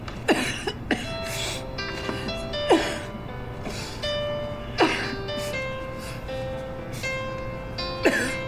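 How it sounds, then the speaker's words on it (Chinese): Repeated coughing from someone with a cold, several short harsh bursts spaced irregularly over a steady background with musical tones, close and fairly clear, no speech. "就是有点感冒，咳嗽"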